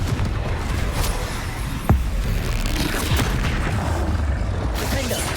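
A Confringo fire spell explodes during a hectic spell duel in Hogwarts Legacy, a sharp boom rising out of dense, continuous rumbling combat noise at close range.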